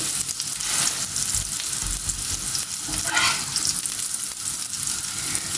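Burger patties fry in a pan over a slow flame. A loud, close, continuous sizzle carries occasional crackles throughout.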